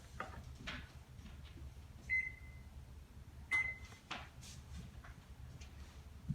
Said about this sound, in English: Let's first start by preheating your oven to 350 degrees.